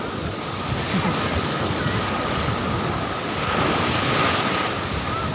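Ocean surf at Patar Beach in Bolinao, Pangasinan, washes ashore at high tide in a steady, loud, broad rush, with wind buffeting the microphone throughout and no voices.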